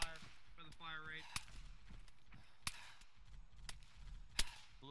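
Gunfire in a military video game during a joint Marine expeditionary unit operation: scattered sharp cracks of distant shots ring out under a speaking voice.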